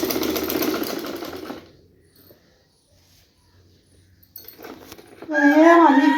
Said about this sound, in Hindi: तो मैं इसको सिलाई लगाऊंगी